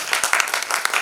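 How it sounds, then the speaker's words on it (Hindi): An audience at an event opening with a lamp-lighting ceremony breaks into loud, dense applause, many hands clapping together close by in a continuous burst. "लेकिन तालियों में कमी नहीं होनी चाहिए"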